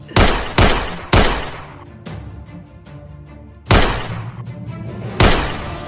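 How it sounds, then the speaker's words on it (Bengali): Gunfire in a film scene: sharp, loud shots cracking out in irregular bursts, a pair and a single early on, more after a pause, each trailing off in a ringing decay. "সবার গুলি করলি বুকে,"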